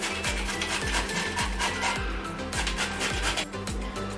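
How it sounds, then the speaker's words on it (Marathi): Bottle gourd being grated by hand on a metal grater, a steady rasping scrape repeating in quick regular strokes, close and continuous throughout without talk. "आता हा आपण भोपळा किसून घेतला आहे।"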